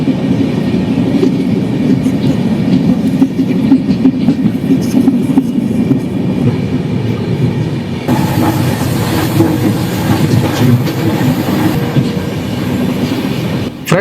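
A train crossing a bridge in Kerala rumbles loudly and steadily, its wheels beating a continuous clickety-clack with a brief metallic squeal, heard close from on board.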